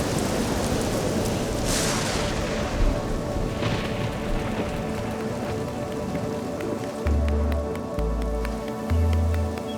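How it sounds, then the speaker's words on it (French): Heavy rain pours down steadily during a violent storm over Catalonia, a dense close hiss of drops spattering on surfaces, with a few deep low thumps of distant thunder rumbling near the end. "Mais de violents orages s'abattent sur la Catalogne."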